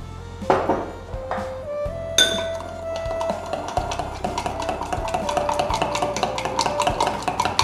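Yeast, sugar and warm water being mixed in a bowl, a spoon clinking and scraping against the sides in quick repeated strokes, close and moderately loud, with no one talking.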